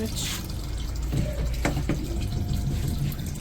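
Water runs steadily from a tap, a continuous splashing hiss with a few brief clinks, while faint voices murmur in the background.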